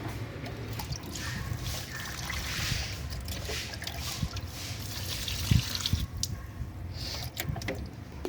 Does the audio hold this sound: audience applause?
no